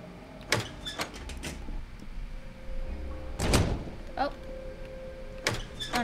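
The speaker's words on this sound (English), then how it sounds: "It was just an automatic door close." An automatic door in a video game slides shut with a quiet mechanical whoosh and thud. It is set among faint clicks, tones and a low steady background hum.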